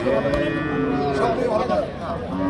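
A cow moos in low, drawn-out calls while several people talk close by at a cattle market.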